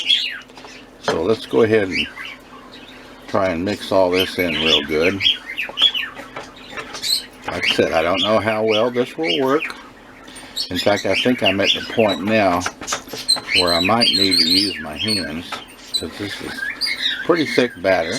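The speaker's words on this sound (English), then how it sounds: "And I don't know if you can hear my birds in the background" Pet birds chirp and squawk in a home kitchen during cheese bread making, faint and scattered in the background under steady talk.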